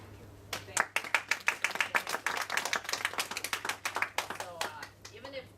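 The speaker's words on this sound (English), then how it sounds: "let's give her another round of applause" Audience applause for a speaker at a university business school Toastmasters club meeting, a burst of many hands clapping close by that swells quickly, holds steady for several seconds, then thins out with a few last claps.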